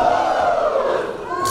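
Raucous wrestling crowd in Toronto at a WCPW match between Rene Dupree and Mike Elgin, a loud sustained roar of cheering and shouting that fills the arena for the whole moment.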